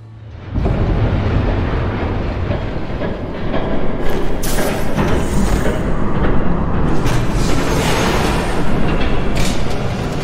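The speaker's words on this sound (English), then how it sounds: "There's a train coming." A train rushes in abruptly and stays loud, a dense rumbling roar with clattering wheels and surging metallic noise that swells again partway through and continues to the end, with no talking over it.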